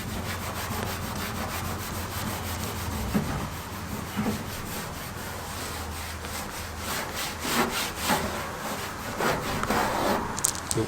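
A rag rubs boiled linseed oil into the old bodywork of a car or truck, a continuous scratchy swishing with irregular stroke bursts, close and steady throughout with no voices.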